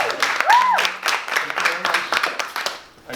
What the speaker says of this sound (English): So, you give him a big round of applause.